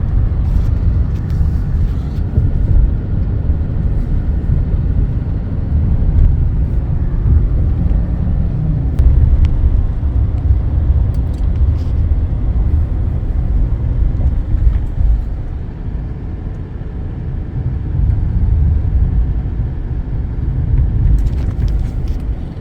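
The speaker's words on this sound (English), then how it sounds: "Sure glad I have a 4x4 truck that sits high off the ground." A 4x4 truck that sits high off the ground drives through a hurricane at the beach, with flooding water around. A loud, steady low rumble of engine and road noise mixes with wind and water, continuous with no talk.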